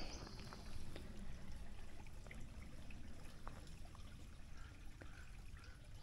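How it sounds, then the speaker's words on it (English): A creek on a hiking trail in Topanga State Park runs with water, giving a faint, continuous trickle and gurgle of flowing water outdoors, without any talking. "you can see the creek here"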